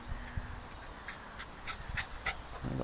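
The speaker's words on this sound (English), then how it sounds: "I've got a dog for company now." A dog pants softly in short, rhythmic breaths at close range, set outdoors on a grassy field where an RC plane is being flown, with faint wind and background noise around it.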